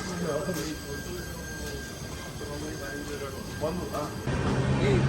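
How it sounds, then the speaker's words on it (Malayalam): A crowded train pulls out of a busy railway station, rumbling along slowly with a low, steady rolling noise and occasional squeaks, while voices murmur faintly. "അവരുടെ ട്രെയിൻ പതുക്കനെ മൂവ് ആവാണ്"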